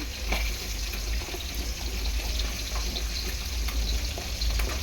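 Rui fish frying in a pan makes a dense, even sizzle that runs steadily throughout, close and fairly loud, with faint watery crackles mixed in.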